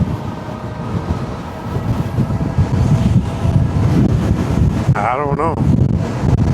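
Strong wind buffets the microphone in loud, continuous low rumbling gusts outdoors on a Sunday motorcycle run, with someone talking briefly over it.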